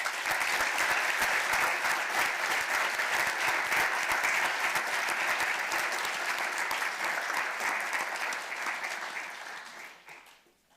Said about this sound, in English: Let us give Evelyn a round of applause.